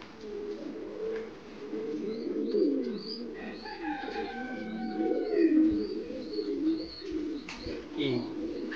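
Almond Jacobin pigeons coo at a pigeon farm, several soft repeated low coos overlapping, close by, with faint higher chirps mixed in.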